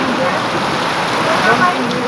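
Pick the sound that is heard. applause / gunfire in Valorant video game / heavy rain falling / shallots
heavy rain falling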